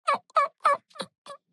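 A hand-operated turkey call imitates a wild turkey's soft yelps on waking at the roost: five short, clear notes in an even rhythm, the last two quieter, with no talking.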